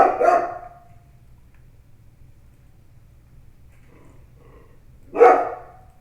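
A dog gives two loud, close barks about five seconds apart, with a quiet low hum in between and no talking.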